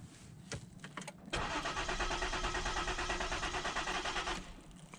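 A car's fuel pump switches on with a steady electric hum and whir that starts abruptly and runs evenly for about three seconds before cutting off, preceded by a few faint clicks.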